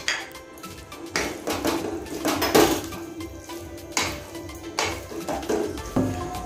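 A metal pot of carrot halwa cooked with milk, cashews, raisins, cardamom and bay leaf is handled in a kitchen, with repeated close metallic clanks and scrapes as a lid is set on, over a steady background hiss.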